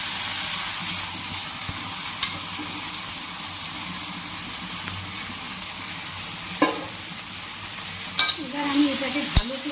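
Gobindobhog rice with fried cashews and raisins being stirred and fried for pulao, a steady close sizzle with scraping stirs and a few louder clanks of the utensil near the end, no talk.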